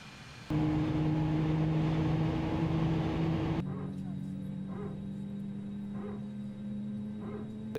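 Airbus A320 engine spooling up during start in Microsoft Flight Simulator 2020: a loud steady whine with low tonal hum that abruptly drops to a quieter idling drone with faint clicks and cockpit sounds.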